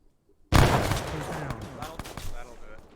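A frag grenade in ArmA bursts with a sudden loud close blast after brief quiet, its rumble trailing off over a couple of seconds while players talk.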